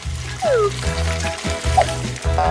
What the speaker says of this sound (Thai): ทีนี้ก็มาทอดเบคอนกัน ทอดให้สวยงาม